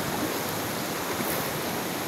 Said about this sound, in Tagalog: ito yung ilog ng Singupan